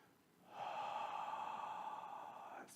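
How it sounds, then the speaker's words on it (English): One slow, deep open-mouth exhale like a sigh, a breathy rush that swells after a brief quiet start, holds for about two seconds and then fades, close and alone. "3 slow, deep, open mouth exhales like this"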